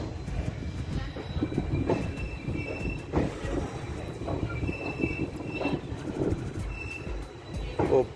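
A train moves through Kathgodam railway station in the early morning, with rolling wheel clatter, rumble and sharp squeals of the wheels on the track, loud and close throughout.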